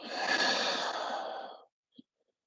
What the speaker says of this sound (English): Take a deep breath in here. Exhale out.